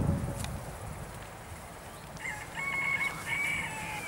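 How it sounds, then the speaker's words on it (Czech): Chickens at a pond-side farm cluck and call in a few short bursts over steady outdoor background noise, moderately close and fairly quiet. "Máme slepičky."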